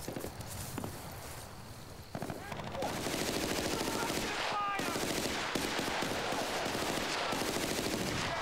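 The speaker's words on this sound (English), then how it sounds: "Somebody's shooting me." Rapid automatic gunfire from the video game Battlefield: Bad Company rattles in sustained bursts, loud and close, with scattered footsteps and no talk.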